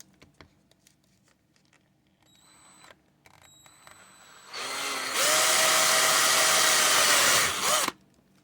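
A few faint clicks and taps, then a loud power drill whirs at steady speed for about three seconds drilling a hole in a Titanic wreck model, before stopping abruptly.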